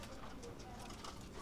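Pigeons coo softly, a few low, brief calls heard at a distance under quiet background noise.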